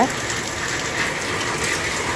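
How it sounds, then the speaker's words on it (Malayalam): Steady rain falls in a dense, even hiss with no pauses, fairly close and moderately loud throughout. "കണ്ടോ ഈ മഴ"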